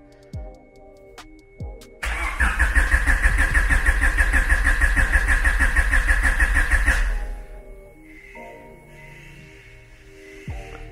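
A Honda Civic engine cranks over without firing for about five seconds, a loud rapid rhythmic chug of the starter, preceded and followed by quieter mechanical clicks and a low electrical whine.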